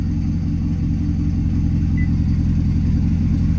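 A Corvette engine idles while warming up after a rebuild, a steady deep rumble that stays loud and close, with no voices over it.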